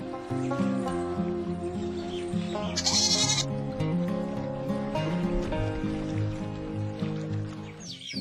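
A goat bleats in an animated story about a farmer ferrying a goat, a lion and grass across a river, a short cry set within busy background music.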